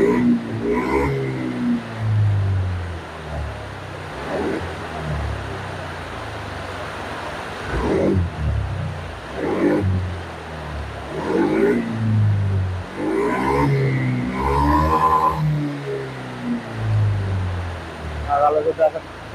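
A Honda Scoopy scooter engine starting and revving in repeated bursts, several throttle surges rising and falling over a steady idle, close and fairly loud, with a voice talking over parts of it.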